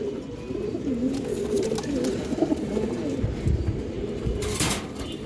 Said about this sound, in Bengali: দুইটা কবুতর ডাক ভালো আছে, খুবই অ্যাক্টিভ আছে।